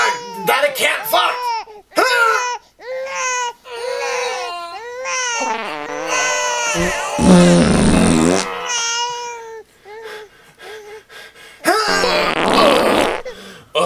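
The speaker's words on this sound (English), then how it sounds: "That's a good thing I finally farted." A single loud, sputtering fart bursts out midway, set among cartoonish voices, whimpers and cat-like cries in a dark room in a fan-made Shrek film.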